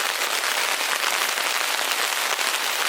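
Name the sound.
heavy rain falling on a tent while car camping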